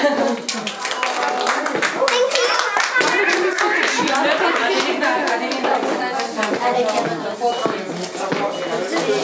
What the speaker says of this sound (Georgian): ტაში მინდა.